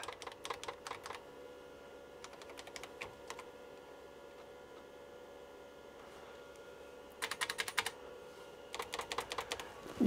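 Keys clatter on the keyboard of a repaired Amstrad PC2286-40 computer in short bursts of rapid typing separated by pauses, close and fairly quiet over a steady machine hum, with no talking.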